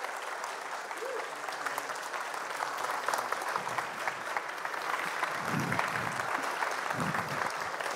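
An audience applauds the speakers at a talk about making the animated series Arcane, a fairly steady, moderately loud spread of clapping with murmured voices rising underneath toward the end.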